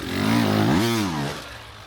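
Dirt bike engine revving hard as the throttle is twisted, pitch climbing to a peak and then falling away in one loud, close sweep with no talk.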